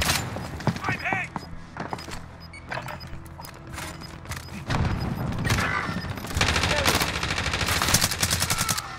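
Gunfire in a battle royale shooter match: dense bursts of automatic weapon fire and scattered single shots, near and far, growing heavier and more continuous, with a player's voice talking over the shooting.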